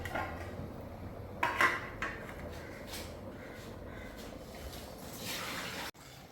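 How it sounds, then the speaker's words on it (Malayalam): A metal lid clatters onto a pot of fish curry with a few sharp knocks among soft kitchen clatter, fairly close, with no voices. "ഇനി ഇവനെ നമുക്ക് മൂടി വെച്ച് വേവിക്കാം"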